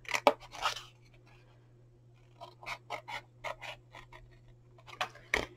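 Scissors cut through scrap card, making a series of short crisp snips in uneven bursts, separated by a quiet pause, with a low steady hum underneath.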